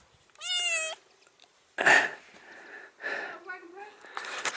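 A pregnant smallholding cat meows nearby, a clear rising meow followed by snuffling and a further softer meow, with a person talking quietly in between.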